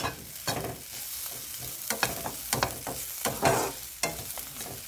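Black cumin seeds frying in a pan for a chutney, with close, quiet bursts of sizzling and crackle broken up by intermittent spatula scrapes.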